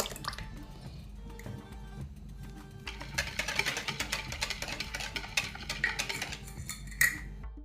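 Chocolate cake batter mixed with warm water and buttermilk, heard as soft wet sloshing with faint clinks of a utensil against a bowl, growing busier and more rhythmic partway through against a low hum.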